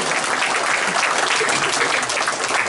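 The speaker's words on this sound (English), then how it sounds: "Now give yourselves a round of applause," Wrestling hall of fame induction crowd applauding themselves, a steady dense wash of clapping that fills the room continuously with no pauses.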